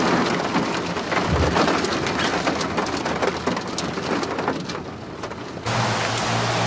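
Steady rain falls on a windy, tree-lined hiking trail near a waterfall, a dense continuous patter that stays fairly loud throughout and eases slightly near the end, with no voices.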